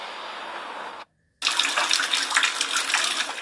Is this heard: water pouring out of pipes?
yes